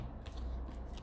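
A card slid off a deck during a tarot-style reading, a soft papery shuffle and flick close by over a steady low room hum, with no one talking.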